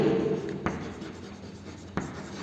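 A pen or pencil writes numbers by hand on paper, giving a soft, close scratching with two brief taps where strokes begin.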